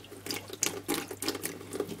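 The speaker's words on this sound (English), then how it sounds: "So my warm tap's going on." Warm water runs from a tap into a sink in a steady, splashing stream, close and fairly loud for a couple of seconds.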